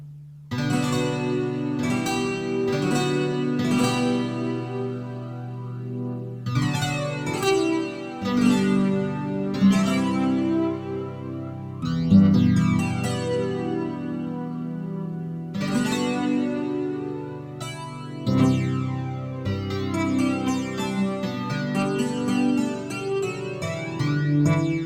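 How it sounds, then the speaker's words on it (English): Waldorf Quantum or Iridium synthesizer preset played with a flanger, sustained notes and chords with sweeping, swirling comb-like movement across the tone, clear and alone. "I've got a flanger on this particular preset"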